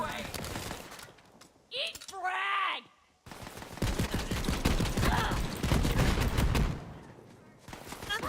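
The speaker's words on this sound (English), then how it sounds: "It's a very clicky weapon, this Jacob's grenade launcher." Sharp, clicky firing from a Jacobs grenade launcher in Borderlands 3, a short burst of shots and ringing game effects near the start, while someone talks over most of the stretch.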